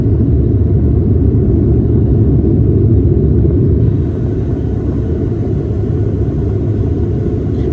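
An airliner on its approach to land in Cebu City gives off a loud, deep, continuous cabin rumble. The roar steps down slightly partway through and then carries on steadily, with no talking.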